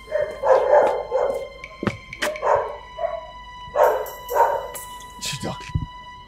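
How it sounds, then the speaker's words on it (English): A dog barks several times in short bursts amid a drama scene, with people talking loudly over and between the barks. "It's a dog."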